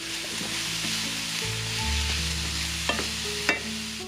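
Onions with salt and turmeric sizzle steadily in a hot pan while a utensil stirs and scrapes, with a couple of sharp clinks against the pan.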